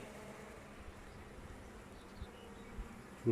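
Honeybees buzzing steadily around an opened hive during a colony check, a faint continuous hum with a few brief closer passes and a soft bump at the end.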